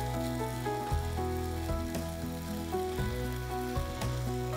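Paneer dropped into sizzling masala in a pan gives a steady frying hiss that sits under prominent background music with no talking.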